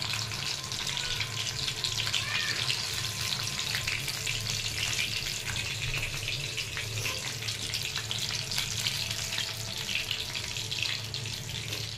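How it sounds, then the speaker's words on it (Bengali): Continuous crackling sizzle of paneer sticks frying in hot oil, steady and close, with light bubbling and no talking. "এগুলোকে একবার করে ভেজে রেখে তুলে দিচ্ছি"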